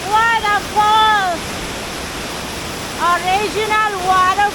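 The Palasanon waterfall roars as a constant, heavy rush of falling water, loud and close, while voices talk over it in short bursts.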